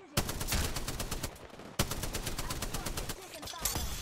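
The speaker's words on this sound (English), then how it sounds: "Why are you shooting me?" Rapid automatic gunfire in the battle royale game Apex Legends, two long bursts of close, loud machine-gun fire separated by a brief pause, with a few trailing shots at the end.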